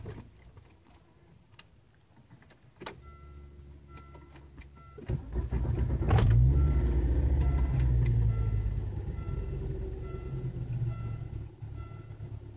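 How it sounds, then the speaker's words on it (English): A Volvo 850R engine runs with a fine, regular ticking click over its hum, with a sharp transient partway through before the engine swells into a louder, deeper rumble that slowly fades. "That clicking noise is new."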